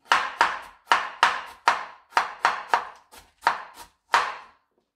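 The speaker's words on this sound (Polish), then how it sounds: "Teraz najgorsza część przed nami, czyli szatkowanie kapusty." A knife shreds cabbage on a cutting board for Polish gołąbki, giving about a dozen crisp, sharp chopping strokes in an uneven rhythm, close and clear with no talk.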